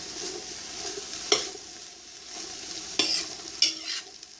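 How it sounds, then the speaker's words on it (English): Okra and tomato sautéing in a pan for an okra tomato stew, a soft steady sizzle broken by a few sharp stirring scrapes of a utensil against the pan, fairly quiet and close, with no talking. "So I'm going to just let this saute for a little bit."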